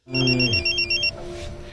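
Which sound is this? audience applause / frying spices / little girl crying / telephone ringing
telephone ringing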